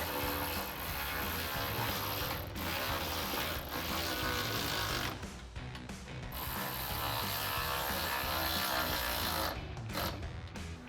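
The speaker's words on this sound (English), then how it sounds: "using a 10mm socket and wrench, we can tighten down the 2 bolts that are on the frame rail" Ratcheting clicks of a 10mm socket wrench tightening two bolts on the frame rail of a Jeep Gladiator JT while mounting rock sliders, a steady close mechanical clatter with short pauses between strokes.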